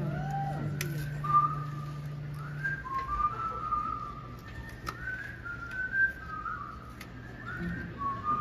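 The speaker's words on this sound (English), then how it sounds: "He's whistling something that I find a little bit familiar." A window cleaner whistles a familiar pop melody live, clear rising and sliding notes in short phrases over a low steady hum, close and fairly loud.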